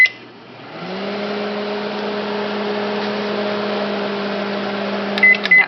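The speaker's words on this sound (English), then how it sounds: "microwave it for 2 minutes" A microwave oven heating a bowl of lemon water hums steadily on its turntable, close and continuous, ending in a few short beeps.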